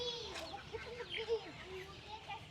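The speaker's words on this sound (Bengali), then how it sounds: "এই তো এই সেটা মুরগি এখানে হচ্ছে আমাদের মুরগি" Several chickens kept at a village homestead cluck in short, repeated, wavering calls, fairly close and moderately loud, continuing steadily throughout with a few sharper peaks.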